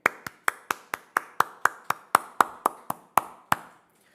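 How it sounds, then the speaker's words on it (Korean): Congregation clapping in praise at a church revival meeting: about sixteen sharp, evenly spaced claps in a steady beat, clear and close, with no talking over them. "우리 함께 계시는 주님 앞에 영광의 박수 한번 올려드리겠습니다"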